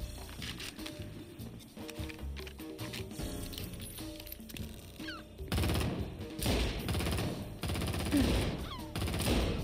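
Rapid bursts of gunfire from the first-person shooter XIII, dense crackling volleys running throughout and growing louder and harsher in the second half, with game effects layered underneath.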